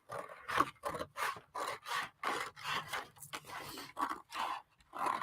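Steady, repeated snips of scissors through paper while making a mixed media poster book, about a dozen crisp rasping cuts in an even rhythm, close up with no talking.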